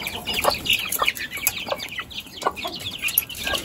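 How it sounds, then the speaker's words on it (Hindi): Hens cluck repeatedly in short, close bursts as they are let out of a backyard pet-house coop, with sharp overlapping calls spread through the moment and no talking. "अभी हम राशन मुर्गी को निकाल देते हैं अंदर से बाहर।"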